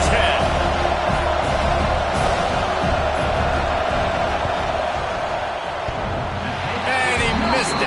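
A loud, dense roar from a packed football stadium crowd during an Iowa field goal attempt, sustained and noisy throughout, with an announcer's voice faintly underneath.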